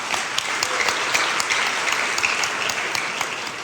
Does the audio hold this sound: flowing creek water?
no